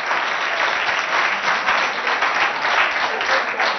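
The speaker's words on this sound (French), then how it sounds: "Sous vos acclamations, chers amis, les trois élèves représentant le CG de Mongo." An audience at a school quiz contest gives steady, dense applause as three students take the stage, a sustained clapping wash that is loud and even throughout.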